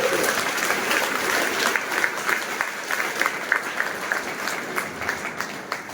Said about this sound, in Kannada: ಒಂದ್ಸಲ ಜೋರ ಚಪ್ಪಾಳೆ ಹೊಡಿಬೋದಾ?